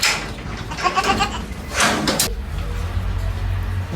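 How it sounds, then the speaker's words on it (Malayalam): Goats bleating on a farm where milk is collected, several calls rising and falling at moderate distance, with some background noise and a low steady rumble in the second half. "നമുക്ക് ആടുകളെ കാണാം"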